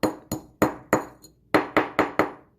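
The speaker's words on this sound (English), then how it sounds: "I'm going to now take my rawhide mallet" A rawhide mallet taps beads and pearls on a Cinderella bar necklace, giving nine sharp, close, clicking knocks in an uneven rhythm with short gaps between them.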